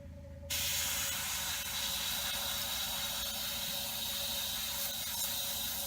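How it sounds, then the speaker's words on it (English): An airbrush clogged with dried paint sprays with a steady, loud hiss that starts abruptly and keeps going for several seconds, with a faint rough rattle under it. "I have got to clean this airbrush out."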